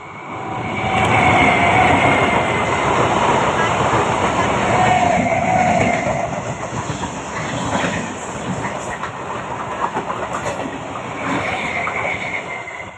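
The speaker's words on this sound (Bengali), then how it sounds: "তোমরা দেখো আমার পিছন থেকে ট্রেন যাবে" A train passes close by on a village railway line, a loud rumbling roar with clattering wheels that swells, holds for several seconds, then fades as it moves away.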